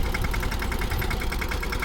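A tractor engine runs nearby during sowing in a farm field, a steady idling throb with quick rhythmic knocking pulses and no talk.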